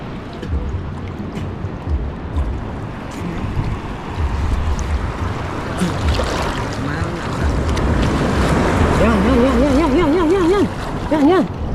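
Big ocean waves surge and crash around a small boat at sea, with heavy wind buffeting the microphone in a continuous rumbling wash that swells louder toward the end, while voices call out over it.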